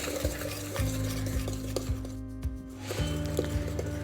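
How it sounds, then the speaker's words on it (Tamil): A spoon stirs cake batter of flour (maida) and sugar in a bowl. The mixing scrapes in steady, repeated strokes at close range, with a faint hum underneath and no talking. "அதையும் சேர்த்து நல்லா மிக்ஸ் பண்ணுங்கள்."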